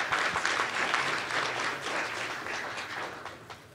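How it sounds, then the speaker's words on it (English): Steady round of applause from a conference audience at a cybersecurity talk, moderately distant and even, slowly tapering off over a few seconds. "Let's just give a round of applause for Tom."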